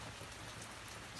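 Rain falls on a yard on the island of Hawaii, a dense, steady wash of drops spattering on surfaces, close and unbroken with no talk.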